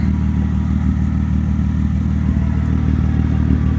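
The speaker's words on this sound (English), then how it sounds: "I know the audio is going to be horrible with my exhaust the way it is" Nissan Pathfinder R50 with a loud aftermarket exhaust, a deep steady droning engine rumble heard close and continuous throughout, with no talking over it.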